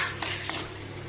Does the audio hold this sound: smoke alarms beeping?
no